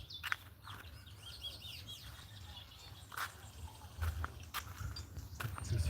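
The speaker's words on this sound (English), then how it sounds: "Birds are now waking up here." Several birds chirping and calling in the cold early morning in Gachie, Kenya, in faint, scattered tweets over a low outdoor rumble.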